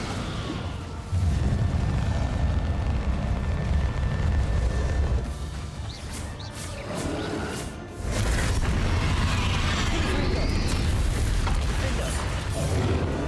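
Incendio fire spell cast during Hogwarts Legacy combat, a loud whooshing, booming burst amid ongoing explosive battle noise and spell effects, with a brief drop before the roar resumes.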